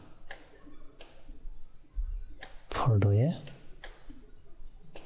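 A computer mouse clicking and dragging during AutoCAD work, giving sharp, evenly spaced clicks near the microphone, with a short burst of voice partway through.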